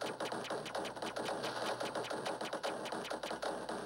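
Rapid spaceship gunfire in the shoot-'em-up video game CYGNI: All Guns Blazing, a fast, steady stream of sharp shots repeating many times a second over a dense game soundtrack, with no talk.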